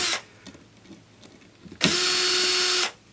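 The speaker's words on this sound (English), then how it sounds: "So all we got to do is unscrew them." A power tool backs screws out of wooden pieces: a brief whir at the start, quiet handling noises, then a loud steady motor whine lasting about a second before stopping.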